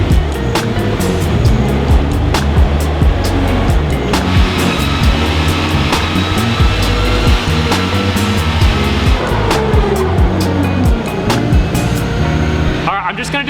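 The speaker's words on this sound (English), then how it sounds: "I'm just gonna do a 3rd gear pull because the wheel speed scares me" A car of roughly 350 wheel horsepower making a third-gear pull on a chassis dyno in a home shop, a loud, steady, close-up engine and drivetrain roar filling the whole stretch before cutting off abruptly at the end.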